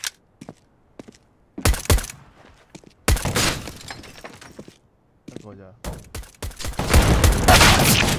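Bursts of gunfire in the video game Counter-Strike: Global Offensive, several loud, sharp volleys spread across the clip and building into heavy sustained shooting near the end, with players talking over it between shots.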